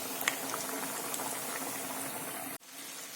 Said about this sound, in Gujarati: અને આપણે 3 થી 4 મિનિટ સુધી આ રીતે તળાવવા દઈશું